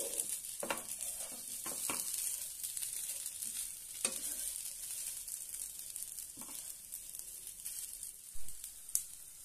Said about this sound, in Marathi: मस्त अशा आपल्या वड्या फ्राय झालेल्या आहेत